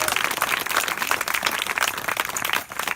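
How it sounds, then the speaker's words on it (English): A crowd applauds at Hen Harrier Day 2018 at Parkgate, a dense continuous wash of clapping from many people, steady and fairly loud for its brief length. "give yourselves a big round of applause"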